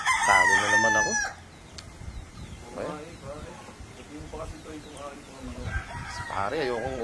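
A rooster gives one loud, close crow at the start, then falls silent while people talk over faint background clucking.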